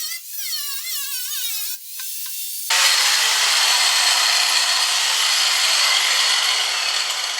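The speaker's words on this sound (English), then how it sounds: "I kind of did it with a blue marker just so I could see the line when I'm cutting it with the grinder" An angle grinder whines as it spins up, then bites loudly into a BMW E36 steel car fender along a blue-marked line, a harsh, sustained close-up cutting roar that fills the rest of the clip.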